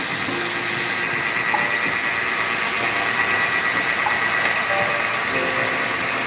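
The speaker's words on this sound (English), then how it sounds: "I need to sand these ends down even with these metal pieces" Power sanding the ends of a turned wooden seam ripper blank in a pen-turning workshop, a loud continuous whirring grind that holds steady throughout.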